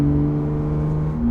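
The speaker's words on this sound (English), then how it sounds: "just so I can give you a taste for what this exhaust sounds like." Cabin drone of a Porsche GT3 RS with an AWE exhaust while driving, a loud, steady low engine hum heard from inside the car.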